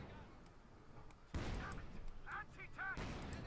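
IS-2 tank cannon fire in Company of Heroes 2, a sudden loud battlefield blast followed by crackling impacts and a louder follow-up burst, under commentary talk.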